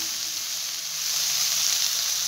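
Vegetables and macaroni sizzle steadily in a hot pan as they are mixed, a constant close hiss with no talking.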